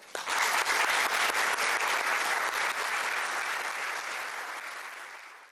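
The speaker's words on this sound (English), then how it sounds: "So please join me in an applause." Audience applause for a speaker at a lecture event, a dense burst of clapping that swells in quickly, holds steady and slowly tapers near the end, with no talking over it.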